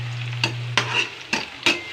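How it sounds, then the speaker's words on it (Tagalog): Garlic and onion sauté in a pan, a steady sizzle broken by four distinct scraping stirs of the spatula at even intervals, close and clear, over a low hum. "Gisa na natin ito mga langga. Hanggang sa mag-brown na yung ating garlic at saka yung sibuyas"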